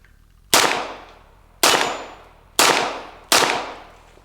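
A TEC-9 pistol fires four loud single shots about a second apart, each a sharp crack that rings and fades out, with no talk between them.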